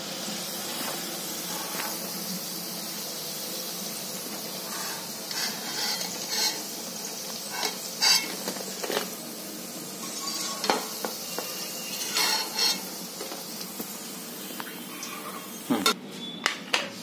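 Maggi pakoras fry in hot oil with a continuous soft sizzle. Intermittent stirring clicks and scrapes sound against the pan, ending in a few sharp metallic knocks.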